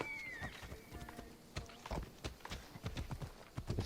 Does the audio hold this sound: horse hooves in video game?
yes